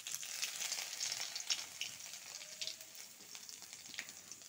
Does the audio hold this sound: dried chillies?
yes